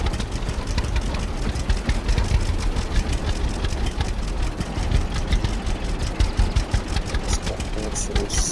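Tractor engine running steadily in the farming game Farmers Dynasty, a continuous mid-loud chugging drone with rapid rhythmic clatter throughout, joined by a few sharper ticks near the end.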